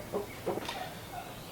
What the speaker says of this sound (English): glad to see you letting the chickens and turkeys roam